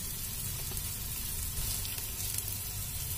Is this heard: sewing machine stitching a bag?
no